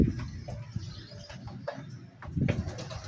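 Four pigeons in San Miguel, Bulacan coo softly nearby in repeated low calls, with a brief flutter of wings and faint background rustling.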